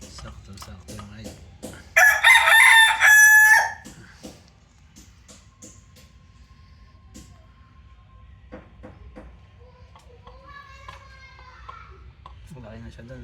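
A single loud crow from a four-month-old McLean x Miner blue gamecock rings out nearby, followed by quieter clucking and faint voices of children in the background.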